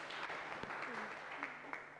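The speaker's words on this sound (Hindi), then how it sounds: "सलीना के लिए भी जोरदार तालियां जो है।" Soft, distant clapping from a seated group at a school report event, applauding a student, low in level and brief, with voices speaking over it.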